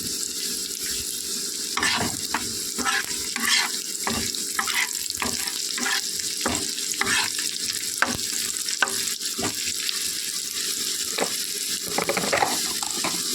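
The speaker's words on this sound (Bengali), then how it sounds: "সুন্দর ভাজা হচ্ছে দেখে নিন" Chopped yardlong beans sizzle and crackle steadily in a hot pan, with occasional stirring clicks and scrapes close by, no voices.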